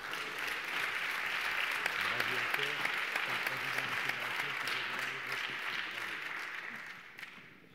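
An audience at an awards ceremony applauds the two winners, sustained dense clapping that swells, holds for several seconds, then tapers off near the end, with a voice briefly under it.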